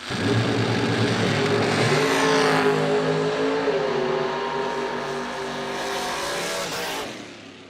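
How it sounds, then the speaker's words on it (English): Dragster and roadster engines roar loudly and continuously at a drag racing starting line, the heavy revving holding steady before dropping away abruptly at the end. "Keith Russell in the Roadster, Tommy Brown, Dragster."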